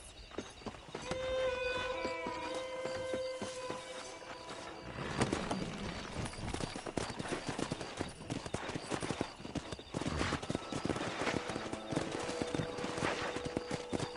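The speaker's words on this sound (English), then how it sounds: "let's see if we can't wrangle some horses" Steady hoofbeats clip-clop along with a horse's whinny in Red Dead Redemption, set in a busy background of game effects and rumble.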